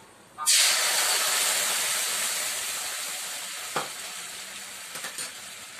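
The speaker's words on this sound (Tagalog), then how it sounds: "Ayan ang ating deep fry." Squid balls dropped into hot oil for deep frying: a sudden loud hiss bursts up and then sizzles steadily, slowly fading, with a few small pops and clicks near the end.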